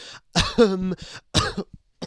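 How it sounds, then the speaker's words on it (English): A commentator on a live Formula 1 qualifying broadcast at the Las Vegas Grand Prix coughs several times at close range. The harsh coughs come in short bursts with a throaty, voiced catch between them, and no words are spoken. "Apologies for the coughing there, folks."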